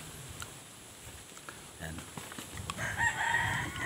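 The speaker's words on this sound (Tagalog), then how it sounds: "maraming alaga ng mga manok dyan." Chickens and a rooster in a rural provincial yard, crowing and clucking at moderate distance, growing louder toward the end, with faint background activity.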